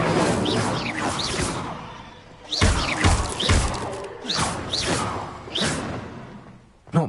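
Fire spells cast repeatedly in Hogwarts Legacy against a giant spider, heard as a series of sharp whooshing bursts with heavy thuds, several blasts spaced across the clip with brief lulls between them.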